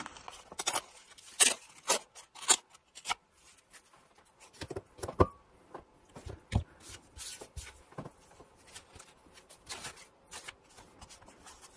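Paper being torn by hand for a gratitude journal with tea-bag pockets, heard as a run of close, sharp rips and crinkles at irregular intervals, with no voices.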